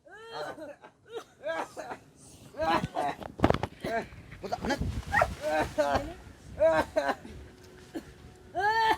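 A dog gives a series of short yelps and whimpering barks, mixed in with people talking and laughing nearby.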